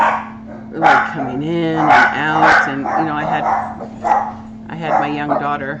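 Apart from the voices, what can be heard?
dogs barking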